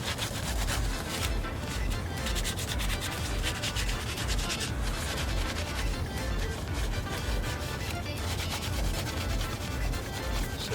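A Clorox wipe is rubbed across a metal engine block, producing a continuous close scrubbing and rubbing with quick back-and-forth strokes, fairly quiet and with no talking.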